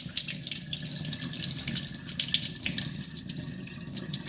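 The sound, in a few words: tap water running while washing basmati rice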